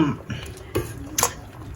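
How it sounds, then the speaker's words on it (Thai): A metal pot lid clinks open over a pot of Thai sour curry (gaeng som) with cauliflower and papaya. There are two or three brief, close metallic clatters against quiet room noise. "เปิดหม้อเลยค่ะ"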